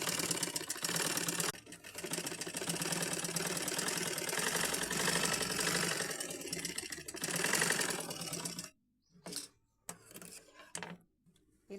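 A sewing machine stitches a cut work blouse, running in a steady loud mechanical whir for most of the stretch, then breaking into short stop-start bursts with brief pauses toward the end.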